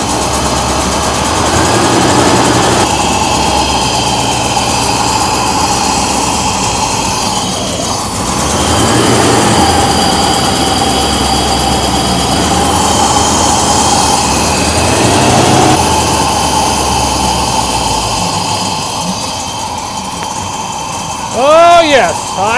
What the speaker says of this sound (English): it's not running on all 8 cylinders. I'm going to have to run it in the shop here a little bit